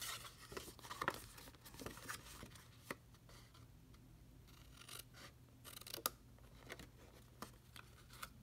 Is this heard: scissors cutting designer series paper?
yes